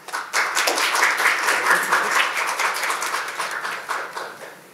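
Audience applause greets a welcome speaker at an investment seminar on global bonds, with dense, steady clapping from many hands, near and fairly loud, sustained for several seconds before easing slightly.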